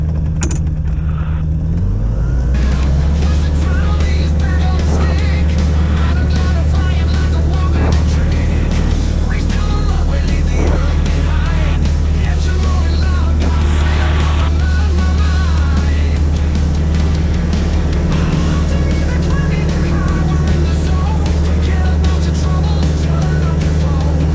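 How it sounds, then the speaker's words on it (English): Motor glider Golf Oscar Sierra at full takeoff power on runway 27, the engine rising quickly to a loud, steady drone that holds unbroken throughout, close and dominant. "motor glider Golf Oscar Sierra about to take off on 27 hard"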